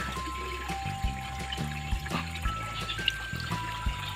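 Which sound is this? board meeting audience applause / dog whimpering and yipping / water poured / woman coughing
water poured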